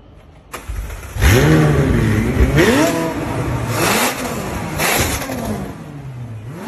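McLaren P1 supercar in a garage firing up with a sharp start, then revved hard several times, each blip rising and falling in pitch before settling back to a loud, close idle.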